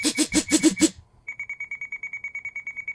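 A Radiolink RC8X radio transmitter gives a quick series of loud electronic beeps, then after a short pause a fast, even run of higher, lighter beeps, with no talking.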